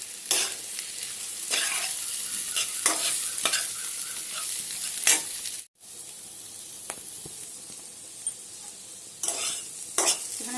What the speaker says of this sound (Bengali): এখানে মশলা কষানো চলছে, মানে আলু আর কচু কষাচ্ছি।